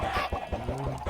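Chickens cluck in a Minecraft modpack world, a series of short, repeated game clucks close and fairly loud over a steady background hum, with no talking.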